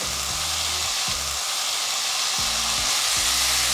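Minced garlic hits a hot pan at medium heat and sizzles loudly and continuously, close up, while a spoon scrapes and stirs in short rhythmic bursts.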